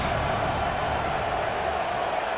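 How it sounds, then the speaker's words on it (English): Steady, dense roar of a stadium crowd cheering during a third-down play in EA Sports College Football 26, loud and continuous throughout with no talk over it. "Third down and the crowd really getting into it."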